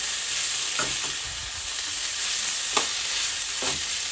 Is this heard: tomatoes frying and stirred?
yes